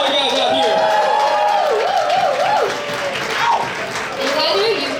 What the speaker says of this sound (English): Give a round of applause for all you guys out here